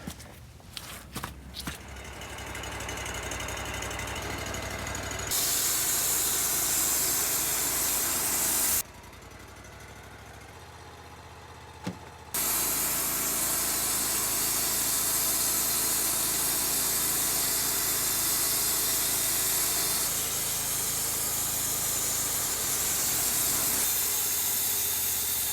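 A sawmill runs steadily, cutting through fir logs with a loud, continuous whining and hissing roar that drops to a quieter idle for a few seconds before the cut resumes at full intensity.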